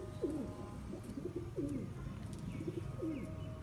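Large pigeons cooing on a rooftop, three or four repeated low coos spaced about a second apart, fairly faint against background ambience.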